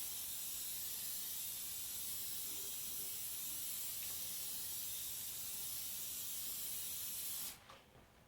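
Black and gold cooking spray hisses onto food in one long continuous burst lasting about seven seconds, close and loud, then cuts off abruptly to near silence, with no talk.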